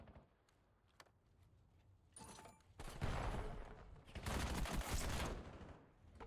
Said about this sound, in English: Nades, stuns. Everything's being thrown at this mid-cut right now while Mlak tries to soak up whatever possibl